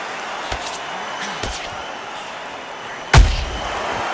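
Punches land in the Undisputed boxing video game: a couple of softer thuds, then one sharp, heavy impact near the end with a short ringing tail, over a low crowd-like bed.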